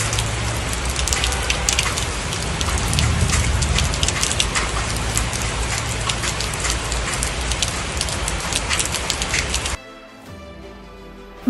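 Steady heavy rain pours over Bengaluru, a dense close hiss of drops on hard surfaces that cuts off abruptly near the end, leaving a faint low background.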